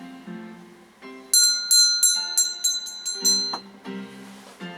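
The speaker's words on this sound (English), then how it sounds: "So I'm going to ring the bell." A handheld bell rings in a quick series of bright metallic dings, close and loud, ringing over a soft sustained musical tone.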